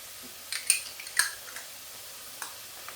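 A spoon clicks and scrapes in a pan as garlic and ginger are stirred into frying lamb kofta, a few light sharp taps over a soft sizzling hiss, close and alone.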